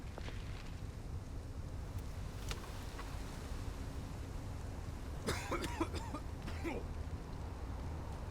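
A few sharp coughs break out partway through, set against a faint, rumbling wind noise.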